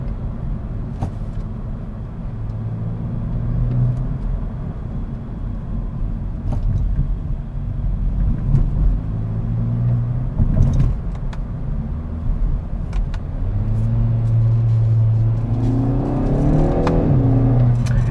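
A 2021 Kia Forte GT sedan accelerating in sport mode, its engine a steady low rumble and whir that builds and rises in pitch toward the end, heard close from inside the car with no talking.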